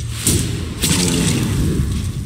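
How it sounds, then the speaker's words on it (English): A cannon attack in the video game Iratus, two heavy booming thuds with whooshing blasts, the second followed by a sustained rumbling tail, loud and close. "I'm gonna use cannon on this guy."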